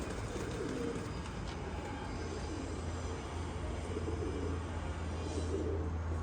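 Pigeons coo softly and repeatedly over a steady low rumble of background noise, with no voices.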